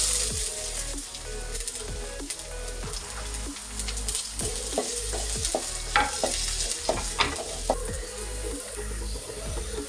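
Ginger, garlic and a small piece of capsicum frying in a pan, a steady close sizzle with frequent scraping stirs and spatula knocks throughout.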